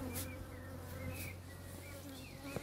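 Honey bees buzzing around a horizontal beehive, a dense steady drone of many insects close by, with individual bees whining past now and then.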